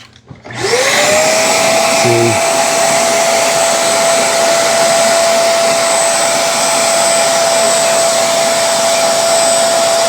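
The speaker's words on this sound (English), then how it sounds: "So when that micro switch is made, it's in floor mode. Let's turn it on." A Shark Carpet Xpert StainStriker carpet cleaner switches on in floor mode and settles into a loud, steady motor whine and airy roar that runs unbroken and close for about ten seconds, with no talking.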